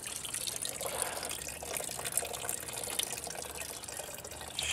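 Coolant from a Pontiac Aztek radiator pouring and trickling out in a steady, continuous wet splatter with small drips throughout.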